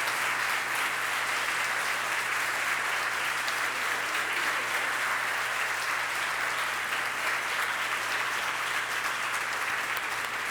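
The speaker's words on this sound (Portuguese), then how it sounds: "Queria que vocês aplaudissem eles, porque eles são dignos de honra" A church congregation applauds loudly and continuously for over ten seconds, a thick wash of clapping with no pauses or speech.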